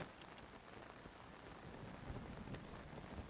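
Steady rain falls in Zelda Tears of the Kingdom, a soft continuous patter on surfaces with a faint low rumble underneath, even and moderately quiet throughout.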